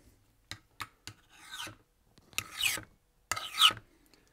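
A metal file is drawn across a hardened steel part in a series of rasping strokes, several short scrapes and then longer, louder grinding passes, close and uneven in rhythm, with no voices.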